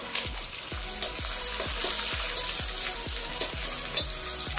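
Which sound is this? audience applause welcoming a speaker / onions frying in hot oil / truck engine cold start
onions frying in hot oil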